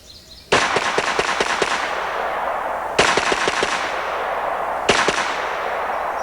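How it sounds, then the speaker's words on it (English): A light .22 rifle fitted with a Choate stock fires three rapid bursts of closely spaced shots. The reports are sharp and loud, separated by short pauses, with no talking over them. "Let's shoot the gun several times rapidly,"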